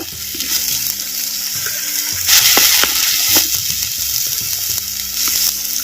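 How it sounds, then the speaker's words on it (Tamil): Small-onion paste sautéing in hot oil for a fish curry gives a steady close sizzle and crackle, with a spoon scraping and stirring the pan in irregular bursts. "சின்ன வெங்காயம் விழுதுகளை அப்படியே எண்ணெயில் வதக்கு வதக்குன்னு வதக்குறான்"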